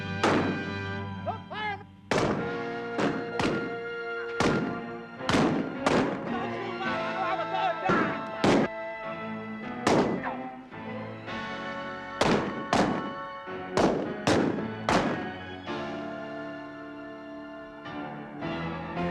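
Gunshots ring out in a reenacted Old West gunfight, a rapid irregular series of sharp, loud reports with brief echoing tails, crowded together over nearly twenty seconds.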